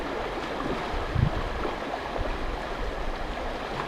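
River water rushes past in a steady current, a continuous broadband wash of flowing water with a brief low thump partway through and no voices over it.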